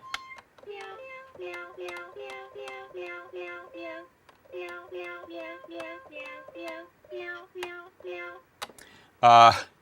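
A toy cat piano keyboard plays a quick run of electronic meowing notes in a bouncy tune, pauses, repeats the pattern, then ends in a louder burst.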